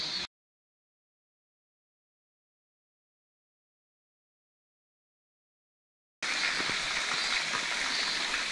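Nahan Waterfall on Soyosan mountain gives a steady, broad rushing wash of falling water for the last couple of seconds after a long silent gap, moderately loud and continuous.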